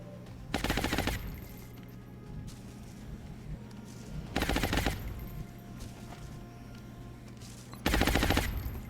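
Three separate bursts of rapid automatic fire from soldiers in XCOM Long War, each lasting under a second and spaced a few seconds apart, loud over a low steady background hum.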